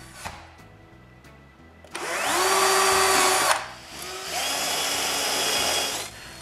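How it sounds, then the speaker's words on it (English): A power drill bores holes in a thermometer housing: a few faint clicks, then two sustained high whining runs, loud and close, the motor pitch sagging as the bit bites and briefly dropping between runs. "I also drill a hole for the interior temperature sensor."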